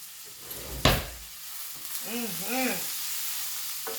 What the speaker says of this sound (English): So let me stir this up.